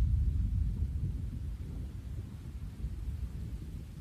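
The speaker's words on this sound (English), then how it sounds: "Oh, look at that lightning." Deep, continuous thunder rumbling from a tornado-producing storm, loud and low without a distinct crack, fading slightly but sustained throughout with no voices.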